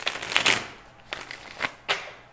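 A deck of tarot cards shuffled by hand, a few short papery riffles and flicks in quick bursts, close and clear with pauses between.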